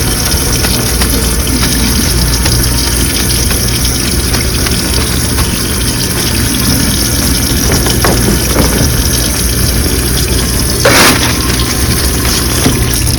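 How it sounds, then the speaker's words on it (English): A sink tap runs steadily in a dental office, a loud and constant gush of water that carries on unbroken, with no talking. "I'm going to turn my sink off"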